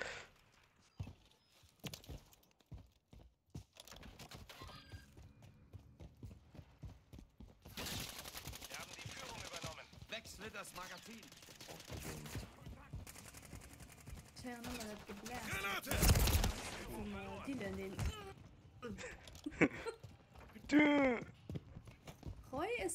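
Rapid bursts of automatic gunfire from the shooter Call of Duty Modern Warfare III, sharp repeated cracks in uneven volleys over a noisy battlefield, with someone talking over the shooting.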